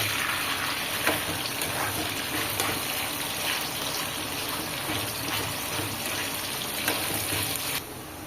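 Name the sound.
chicken pieces deep frying in oil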